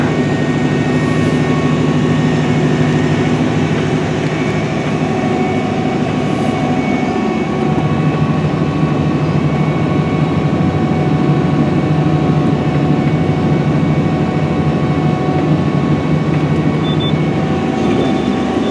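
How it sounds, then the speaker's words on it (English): A Challenger tractor engine drones steadily and loudly throughout as it turns on a field while planting corn, a deep low rumble with a constant mechanical hum layered above it. "Now the tractor is going to actually steer itself back onto another 40-foot pass here."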